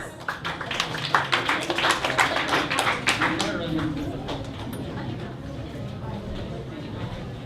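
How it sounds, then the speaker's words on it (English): Audience applause for the last pitch team, the Open Shelves, at a startup pitch event in Manila, with a burst of sharp claps over murmuring that peaks early and then tapers to a softer, sustained patter with voices beneath. "A round of applause, please"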